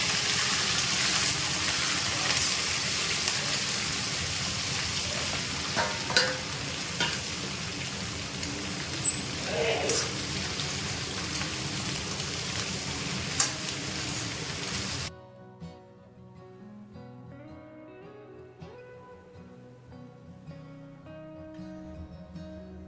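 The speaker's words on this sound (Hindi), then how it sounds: "तेल गरम हो चुका है। अब फटाफट से जीरे का तड़का मार लेते हैं" Loud, steady sizzling of cumin seeds frying in hot oil, crackling continuously, then abruptly giving way to soft background music.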